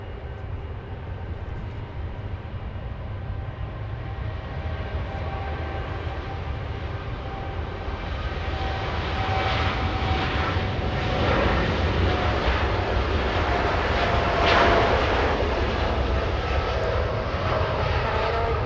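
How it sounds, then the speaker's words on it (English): A Boeing 787 Dreamliner departing Los Angeles International Airport, a loud, steady jet engine roar that builds gradually and stays heavy throughout, with a rising whine over the low rumble as it powers away. "Dreamliner getting a move on. This one flying to Tahiti"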